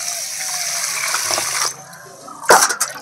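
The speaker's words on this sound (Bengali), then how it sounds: "বেশি করে জল দিয়ে ভিজিয়ে রাখি" Water gushes from a tap into a pot of meat to soak it in a home kitchen, a steady close pour that fades, then a brief sharper splash near the end.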